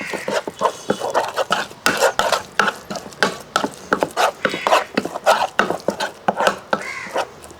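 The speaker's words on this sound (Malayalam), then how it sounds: "ആ വെളിച്ചെണ്ണ എടുത്ത് ചേർത്തതിന് ശേഷം ഒന്ന് ഇളക്കി കൊടുക്കുക" A spoon stirs a chicken marinade with coconut oil in a bowl, giving quick, rhythmic scraping and clicking strokes that are close and fairly loud, with no speech.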